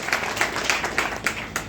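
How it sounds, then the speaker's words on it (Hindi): Audience clapping at an income presentation and celebration event, a steady patter of many hands with rhythmic bursts roughly every quarter second, fairly close and continuous throughout. "ताली जोरदार होना चाहिए सिस्टम।"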